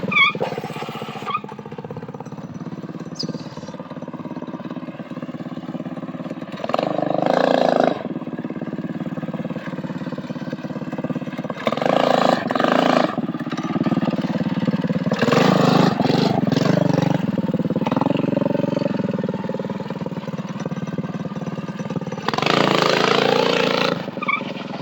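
A CT200UEX motorized trike with new gearing rides down a driveway, its small engine droning and repeatedly surging louder as it revs, with no voices.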